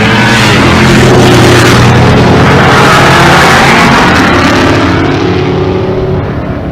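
A Dodge Hellcat at a drag race in Pueblo, Colorado gives a loud, dense engine roar that holds steady and then fades slightly toward the end, with no voices over it.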